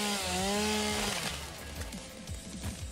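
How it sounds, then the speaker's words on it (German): A chainsaw revs and cuts through a tree in the video game Satisfactory, a loud buzzing whine that drops in pitch as it bites in, then gives way to rough, choppy grinding for the rest of the stretch. "Mit Kettensäge."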